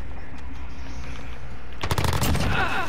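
Rapid bursts of automatic gunfire from a video game erupt loudly and fill the second half, following a stretch of quieter ambient game sound.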